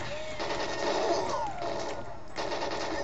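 Gunfire in the video game GoldenEye 007, bursts of rapid automatic shots with a sustained mid-pitched tone over game background noise, loud and continuous.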